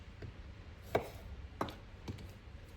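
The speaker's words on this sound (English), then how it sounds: "now I'm done chopping these up" Three sharp knife chops through cabbage on a board, spaced unevenly, close and fairly quiet over a faint room hiss.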